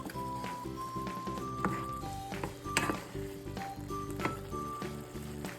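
A pot of water with reduced-sodium chicken bouillon and a tablespoon of unsalted butter boils on the stove, giving a steady close bubbling and sizzling with a soft melodic backdrop underneath.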